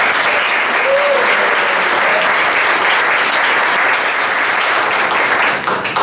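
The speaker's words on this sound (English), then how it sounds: "Let's give them all a round of applause." A large crowd applauding steadily and loudly at a Cincinnati Fringe theater performance, the dense clapping holding for several seconds before tapering slightly at the end.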